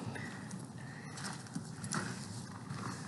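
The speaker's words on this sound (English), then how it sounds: "So I'm gonna ride Mickey around the arena" A horse's hooves clip-clop at a steady walk in a muddy ranch arena, faint and somewhat distant under broad background noise.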